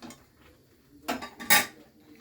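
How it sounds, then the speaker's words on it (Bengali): A kadai (wok) set down on a gas stove in a home kitchen while making spinach masoor dal, giving two short metallic clanks close by, the second louder, over quiet background. "দিয়ে আমি একটা কড়া বসিয়ে নিচ্ছি।"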